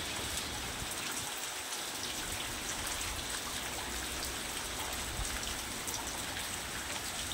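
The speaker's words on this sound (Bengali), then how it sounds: "অসম্ভব ঝড় বৃষ্টি।" Rain pours down steadily in a storm, a dense, even hiss that continues without pause.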